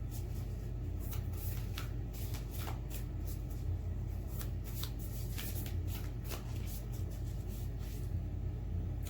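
Tarot cards being shuffled by hand, a steady run of crisp riffling and sliding card noises close to the microphone over a low background rumble, with no talking.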